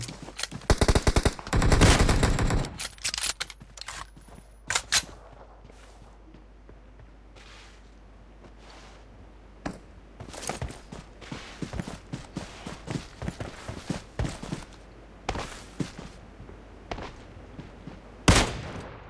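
Video game gunfire in a multiplayer shooter: a dense burst of rapid automatic fire up front, then scattered single shots and short bursts, some near and sharp, others distant, with faint footsteps between.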